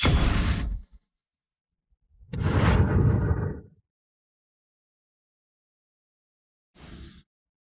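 Heavy weapon fire sets off explosions in an animated battle story: three separate booming blasts, the first two long and loud, the last a short sharp burst, separated by silence.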